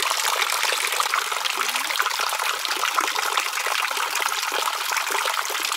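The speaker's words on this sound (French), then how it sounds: "ici il y a une source. Apparemment l'eau est potable, on peut la boire" A drinking-water spring flows steadily in Jalalabad, Kyrgyzstan, a continuous bright trickling and splashing stream close by, with no voices over it.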